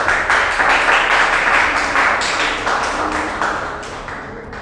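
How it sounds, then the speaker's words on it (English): An audience at a school investiture ceremony claps loudly and steadily, a dense wash of close hand claps that slowly fades toward the end. "Clap."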